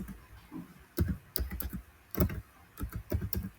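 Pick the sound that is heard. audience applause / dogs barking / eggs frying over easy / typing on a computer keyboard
typing on a computer keyboard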